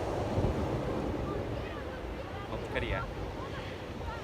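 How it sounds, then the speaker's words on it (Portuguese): Large ocean waves wash over a rocky beach on Madeira in a broad, rumbling roar blown about by wind against the microphone, while a person says a few words briefly over the surf. "as ondas são enormes"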